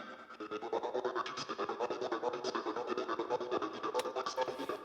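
Background vocals in an Ableton Live 11 beat, panned automatically and washed in reverb, form a dense, steady rhythmic pulse that stays loud and busy throughout, with no talking over it.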